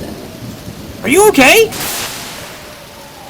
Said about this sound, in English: A Storm at Sea